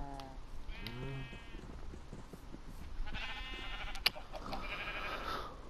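Minecraft sheep bleat several times in a farm pen, wavering nasal calls at moderate distance with a few overlapping, alongside soft game ambience and a sharp click near the end.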